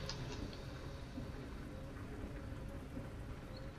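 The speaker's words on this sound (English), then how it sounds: "this is the first time it's been raining since I've been in Spain" Rain falls steadily outdoors in Spain, a faint continuous patter with scattered drops throughout.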